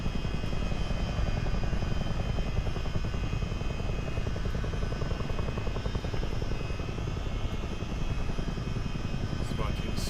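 A CH-47D Chinook helicopter in a multiplayer flight game drones with a steady, loud tandem-rotor and engine roar that holds constant throughout, with no voices.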